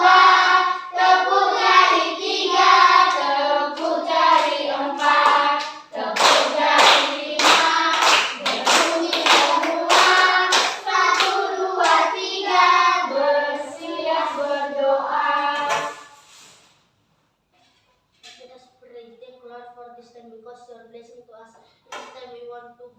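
A classroom group chants in rhythm while clapping with their fingers, the sharp rapid claps dense through the middle stretch under the voices, then stopping as a quieter voice continues alone.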